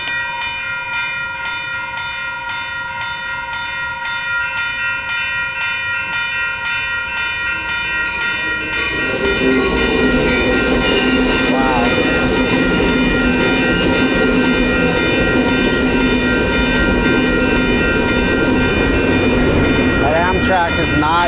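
A train rolls past near a bike route on a commute home along Broadway, its steady loud rumble and rail clatter rising partway through and holding close, with a horn-like tone in the mix.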